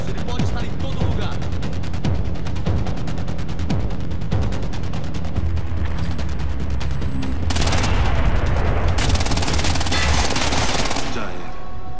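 Rapid gunfire bursts in the stealth shooter Splinter Cell: Blacklist, dense repeated shots with heavier, louder volleys toward the end, under faint game ambience.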